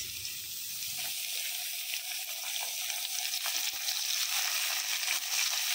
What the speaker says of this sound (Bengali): পেঁয়াজটা একটু ভাজা হয়ে গেলে তারপরে দিয়ে দেব আমি কাঁচামরিচ